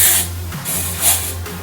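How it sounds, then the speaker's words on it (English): Dry shampoo sprayed into the hair roots while preparing a half-up plait, heard as three short, close hissing aerosol bursts with brief pauses between them. "a bit of dry shampoo, which is great for updos. So spray that into the root."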